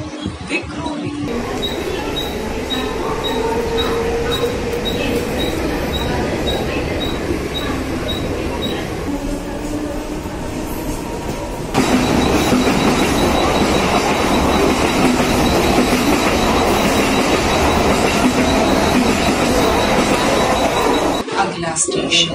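A Mumbai local train running on the line between Titvala and Boisar via Dadar: continuous rumbling wheels and rattling carriages heard from onboard, with squealing tones and a louder surge partway through, and voices faintly in the mix.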